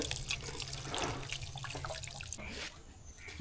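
Tap water running steadily into a sink during washing for a noodle party, a continuous splashing rush that drops and quiets near the end.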